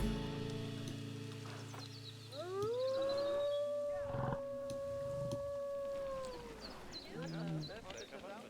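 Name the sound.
animal howling in Planet Zoo video game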